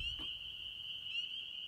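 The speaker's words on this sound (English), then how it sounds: "may heaven be filled with the sound of peepers" A dense, steady chorus of high peeping frogs rings continuously, with a soft thump near the start.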